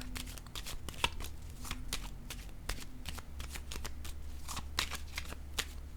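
Playing cards riffle and snap in a steady run of sharp, papery bursts, shuffled and dealt during a French-language card reading; close and moderately loud with a low background hum, no talk.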